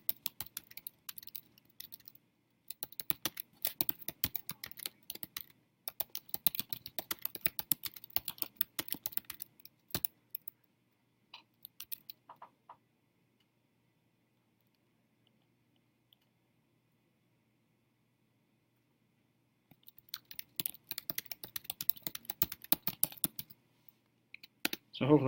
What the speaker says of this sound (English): I'll go ahead and type a few things